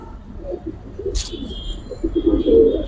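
Giribaz and racer pigeons kept in a loft coo softly in low murmuring phrases, building louder near the end, with a brief sharp rustle partway through.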